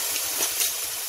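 Water gushes steadily from a pouch into a cooking pot, a continuous close, bright pouring rush with small surges, no voices.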